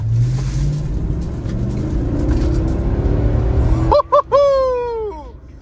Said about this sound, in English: Let's put her in drive and we'll do some manual shifting just to make sure that this thing still drives correctly.